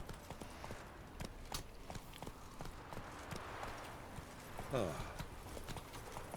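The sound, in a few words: horse Roach hooves clip-clopping in The Witcher 3 video game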